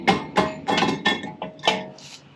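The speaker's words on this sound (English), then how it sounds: "take the mallet and hit this from the back" Six sharp metallic blows of a mallet striking an Acura TL wheel hub from the back, loud and close, each hit ringing briefly with uneven spacing.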